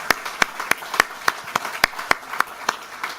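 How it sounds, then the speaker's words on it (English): A small audience welcoming a speaker at a summit road show in an historic Australian parliament house claps in a slow, sparse, evenly spaced rhythm, with about a dozen distinct nearby claps and no talking. "Let's give him a big round of applause to welcome him formally."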